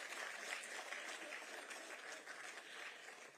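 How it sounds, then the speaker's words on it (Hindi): An audience applauds at a public event at Raj Bhavan, giving a sustained, fairly distant, even patter of many hands clapping for several seconds. "ताली मारिए तो जोर से मारिए।"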